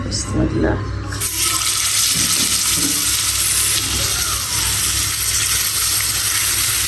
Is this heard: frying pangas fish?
yes